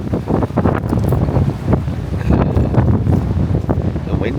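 Strong wind roars across the open deck of the Norwegian Breakaway cruise ship on rough sea, loud gusty buffeting that never lets up, with people talking underneath.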